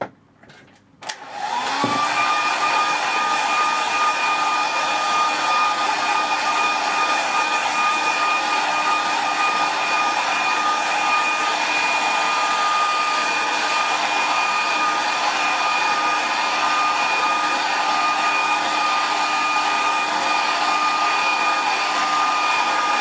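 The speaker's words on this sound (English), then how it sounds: "once it's tight, I'll give it a dry with the hairdryer." A hair dryer clicks on and whirs steadily for a long stretch drying watercolour paper, a loud close blowing hum with a high motor whine and no talking.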